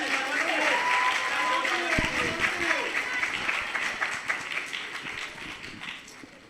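Students in a classroom at an SPM exam revision session clap together, a steady wash of applause that fades gradually while voices talk over it.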